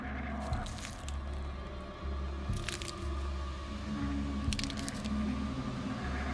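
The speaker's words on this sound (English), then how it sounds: "That familiar, awful sound. The crunch of those needles." Footsteps crunching on fallen pine needles outside a tent at night, a series of close, dry crackling steps in a loose rhythm over a low, pulsing background hum.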